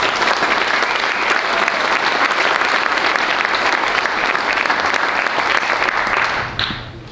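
Audience at Springfield, Oregon's 2024 State of the City event gives loud, sustained applause that fills the room and then tapers off abruptly near the end.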